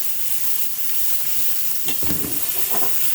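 Steak sizzles in a pan with garlic and thyme, a steady close hiss and crackle throughout, flaring louder in bursts partway through as the aromatics hit the hot fat.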